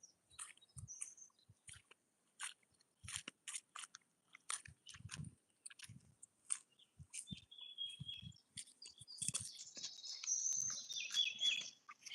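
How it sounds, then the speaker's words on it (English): Birds chirp and tweet in scattered bursts, with a brighter flurry of calls near the end, alongside intermittent crunching and clicking sounds close by. "Listen to those birds."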